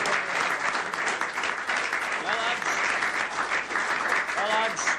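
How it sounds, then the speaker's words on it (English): Club members applaud Harry Duckworth in a pub, a dense sustained round of clapping from a crowd, loud and close, with voices calling out over it. "giving old Harry a burst of applause and a vote of thanks"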